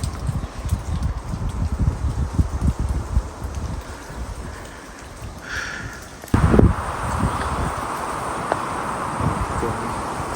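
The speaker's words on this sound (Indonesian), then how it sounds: "Suara anginnya guys sangat kencang" Strong wind roars across the summit trail of Mount Raung, a steady gusty rush with a sharp louder blast partway through, alone without voices.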